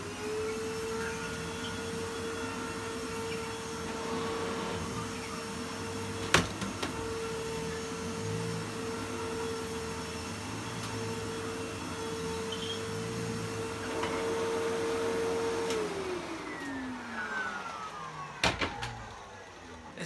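A Hitachi vacuum cleaner with a beater bar brush roll and a worn belt runs with a steady droning motor and a high whine for about fifteen seconds, then winds down, with a few sharp clicks and knocks near the end.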